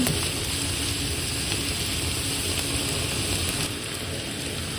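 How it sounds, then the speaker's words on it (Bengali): Onions frying in a pan for chicken and potato paratha samosa filling, giving a steady, dense sizzle that holds evenly close by throughout, with no talk. "তো দুই মিনিটের মতন আমি পেঁয়াজ দিয়ে ফ্রাই করে নিছি"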